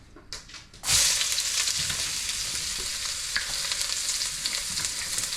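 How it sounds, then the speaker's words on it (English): Shallots hit hot oil in a pan for pad krapow, a loud sizzle bursting in after a brief soft clatter and holding steady and close, with light stirring scrapes throughout. "When your oil's up sizzling, add your shallots."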